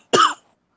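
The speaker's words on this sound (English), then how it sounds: "that was an actual cough" A single short, sharp human cough, close and dry, lasting well under half a second and followed by silence.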